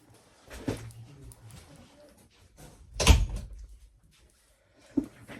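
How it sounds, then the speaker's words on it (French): A door is pushed shut indoors in a home craft space, giving a single firm thud near the middle, with a fainter knock just before and another near the end. "Je vais fermer la porte"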